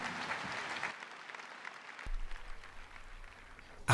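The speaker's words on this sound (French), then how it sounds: "Applaudissons pour Jésus-Christ." Audience applause in a church gathering celebrating Jesus Christ, a crowd clapping steadily at moderate volume, thinning out partway through, with a low hum and a sharp burst at the very end.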